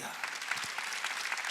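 A church congregation at a Wednesday worship service bursts into brief applause, a dense, steady patter of many hands clapping at moderate distance for under two seconds.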